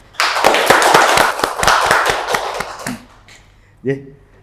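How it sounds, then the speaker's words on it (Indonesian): An audience at a 2024 PPPK civil-servant orientation seminar in Surakarta breaks into loud, dense applause after a presentation, with rapid claps lasting nearly three seconds, then fading as a voice begins speaking. "Dan aplaus lagi untuk Mbak Swaton terkait dengan rancangan inovasi."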